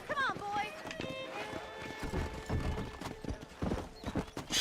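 In Red Dead Redemption, a horse's hooves clip-clop at a fast run while it neighs and whinnies, with a voice speaking over the galloping.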